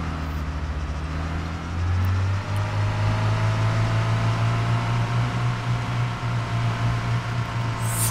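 An off-road vehicle in the Arma 3 video game driving along, with a steady, loud engine drone that rises in pitch early on and then holds a continuous hum with no speech.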